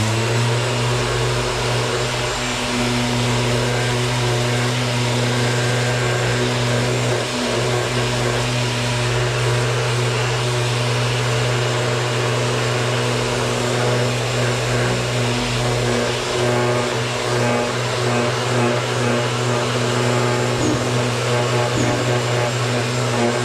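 Electric sander running continuously on a Mini Cooper D headlight lens, a loud, steady motor drone with a constant low hum and broadband whir, close and unbroken throughout, no voices.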